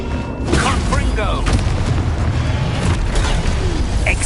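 Loud, dense spell blasts from the Confringo fire spell in Hogwarts Legacy, a steady roar of booming impacts and crackling bursts layered over one another throughout, with no clear gaps.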